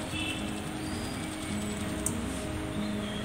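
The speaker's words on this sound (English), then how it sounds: "If the IR sensor detects, then motor will run." Small motor of a smart parking system prototype turning to open a gate, giving a soft continuous gear whir with a faint ratcheting texture, close but quiet.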